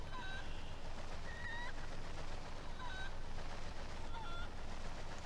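Cucco chickens in Zelda: Twilight Princess HD give short, repeated honking squawks at intervals over a steady hiss of game ambience, faint and without any talk.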